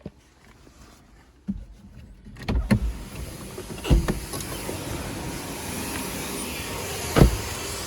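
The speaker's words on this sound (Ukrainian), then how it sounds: "4 склопідйомники" Electric power windows of a Volkswagen Golf 4 whir up and down close by, with several separate motor runs and sharp clunks as the glass stops, over a quiet interior hum.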